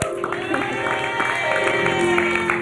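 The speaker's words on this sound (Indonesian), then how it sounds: "tepuk tangan dong buat Mbak Im" A studio audience breaks into loud, sustained applause, dense clapping mixed with some cheering, with voices audible underneath.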